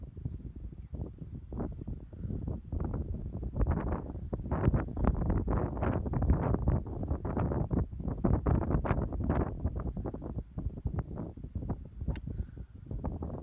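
Wind on an open golf course buffeting the microphone in continuous loud gusts and rumbles throughout, with no voices.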